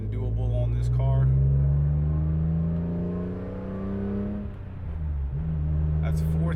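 Alpine white 2004 BMW E46 M3 with a six-speed manual revs hard through first gear, drops briefly on a one-to-three shift, then pulls again, loud and close throughout.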